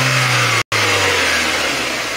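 Warm car engine revved from an idle of about 870 rpm; a loud, steady engine roar holds for about two seconds, broken by a brief dropout near the start.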